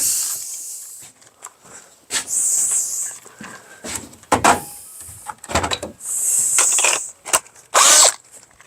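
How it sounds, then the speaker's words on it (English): A power drill with a screw bit runs in short, harsh starting and stopping bursts into aluminum, binding up, with clicking and rattling in between; close and loud, no talking. "So I need the drill"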